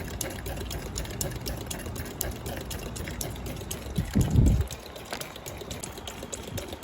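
A machine flushing the CNG gas injectors of a Honda City runs with a steady rapid mechanical ticking and liquid hiss, with one brief louder gurgling burst midway.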